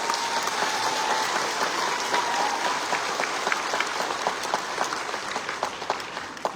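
A single person clapping hands at a political gathering, rapid, sharp claps repeated in an even rhythm against light room noise, fairly close and with no talking over them.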